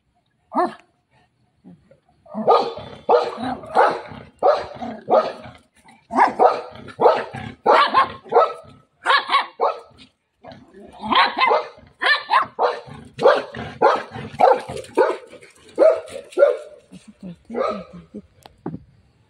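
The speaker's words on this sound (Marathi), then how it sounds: "तो व्हाईटवाला कुत्रा आहे बघा" A white dog barks repeatedly in quick bursts, fairly close, with a few whimpering yips mixed in and pauses between volleys.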